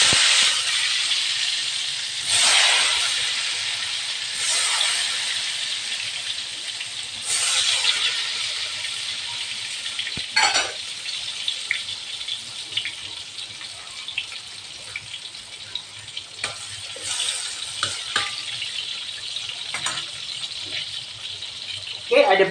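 Anchovies (ikan bilis) fry in a pan for sambal with eggplant, salt and turmeric, giving a steady bright sizzling hiss with occasional utensil clatter and no voices.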